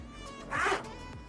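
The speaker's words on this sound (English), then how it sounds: "I love these zippers" A zipper on a camera backpack is pulled once in a quick, close rasping stroke lasting under half a second, set against quiet room background.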